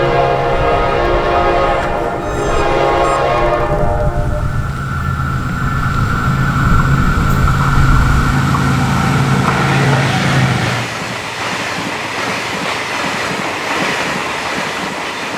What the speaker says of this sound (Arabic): في قطر هيقف جاي دلوقتي.